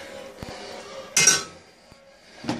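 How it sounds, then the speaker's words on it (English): Boiled pasta goes into a pot of lamb shank soup that has simmered for six and a half hours, making a short clattering splash with faint clinks of utensils before and after. "Put the pasta in."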